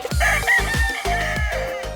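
A Philippine rooster crowing close and loud, a strident cock-a-doodle-doo call with rough throaty pulses, heard alone without talking.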